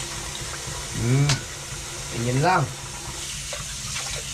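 Water runs steadily from a broken tap, a continuous splashing hiss throughout, while a person speaks over it in two short bursts.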